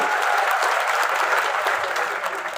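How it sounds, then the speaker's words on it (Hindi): A steady wash of crowd applause at a political rally, loud and sustained, many hands clapping at once without letting up. "इसके अंदर तालियां, जोरदार तालियां होनी चाहिए।"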